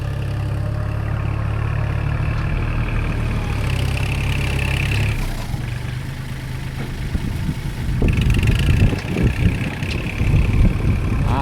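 An excavator engine drones at a steady low idle as the machine is driven up onto a trailer, its note dipping midway and then rising into a rougher, louder rumble with clanking near the end.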